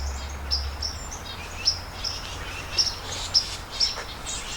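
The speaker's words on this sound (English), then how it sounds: "Bunch of chickadees, titmice, some cardinals." Winter flock of chickadees, titmice and cardinals calling in woods along the Appalachian Trail: a steady scatter of bright, high chirps and short whistled notes, several sharp calls standing out over a faint, constant background hiss.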